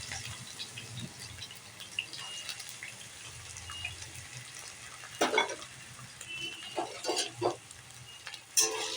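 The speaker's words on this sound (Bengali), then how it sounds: "ফার্স্টে আলুটা একটু ভেজে নেব।" Potato pieces frying in hot oil in a home kitchen, a low continuous sizzle with intermittent scraping and clattering as they are stirred in the pan, fairly quiet and close.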